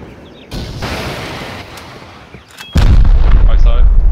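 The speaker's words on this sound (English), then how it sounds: "I'm gonna fire rocket." Rocket fired in an online raid video game, a loud booming blast with a rushing burst, heard amid ongoing game noise and a brief earlier whoosh, with players talking over it.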